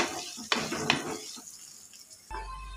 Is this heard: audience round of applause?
no